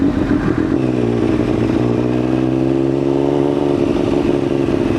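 Close, loud revving from a Triumph Daytona 955i superbike that runs badly, its engine note rising and settling into a steady buzzing drone with uneven clatter, alone without talk.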